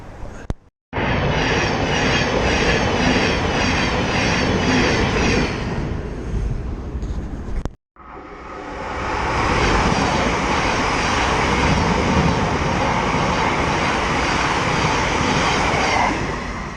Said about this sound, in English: Go fast these trains come through this station.